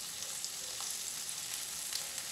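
Breaded pork chops and ribs frying in hot oil, a steady close crackling sizzle with scattered pops, continuous and without voices.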